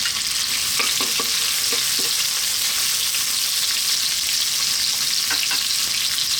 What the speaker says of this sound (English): Then we're going to go in with our onion.